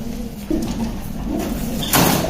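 Racing pigeons in a loft coo in low, murmuring bursts, close and moderately loud, with knocking and rustling from the loft mixed in.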